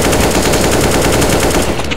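Automatic gunfire from a first-person shooter game: a continuous rapid rattle of shots, loud and close, sustained for about two seconds with a steady rhythm and no speech.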